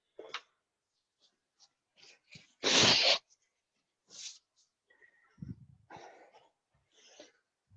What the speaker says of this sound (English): And again, blow my nose.